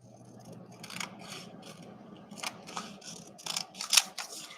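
Scissors trim small paper pieces during a studio clean-up, giving a run of crisp snips and papery rustles that grow sharper toward the end, close and alone.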